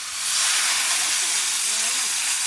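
Water hits a hot pan of browned masala for a snakehead fish and elephant foot yam curry, bursting into a loud, steady steam hiss that rises quickly and holds without pause.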